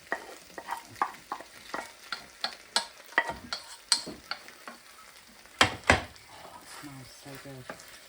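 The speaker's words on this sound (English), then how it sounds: "we're just going to add in our drained pasta and broccoli." Drained pasta and broccoli get stirred through a hot pan, making a quick run of rhythmic scraping and tossing strokes over a faint sizzle, close and fairly soft.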